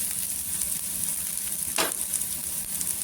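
Onion and green chilli fry in hot oil with salt in a pan, giving a steady, dense sizzle throughout with one brief louder crackle near the middle.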